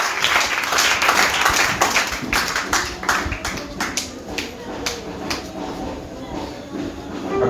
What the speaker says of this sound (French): Nous acclamons pour le Seigneur Jésus.